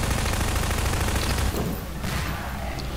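SMG grenades explode in Half-Life 2 in a loud, heavy rumble of overlapping blasts that tails off partway through into a lower roar.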